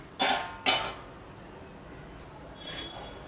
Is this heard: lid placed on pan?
yes